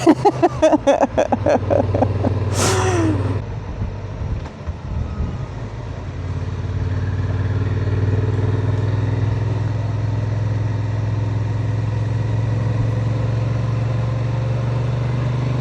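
A 2025 Honda Transalp motorcycle splashing through a water ford on a UK road, with a rough rattling burst and a spray of water early on, then a steady close engine drone carrying on for several seconds.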